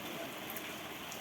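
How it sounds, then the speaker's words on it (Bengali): Steady monsoon rain falls continuously in a dense, even hiss, faint and uninterrupted, with no talking. "সমানে বৃষ্টি হচ্ছে, দেখতে পাচ্ছ?"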